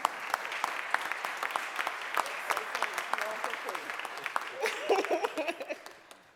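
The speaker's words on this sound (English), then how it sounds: "can you give her a round of applause?" An audience at a mayor's press conference gives a round of applause, scattered claps building to a denser burst then tapering, with murmured voices underneath.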